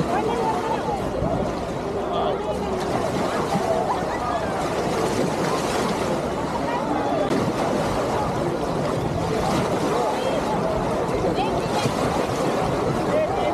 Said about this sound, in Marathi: हे आहे रामेश्वरम बीच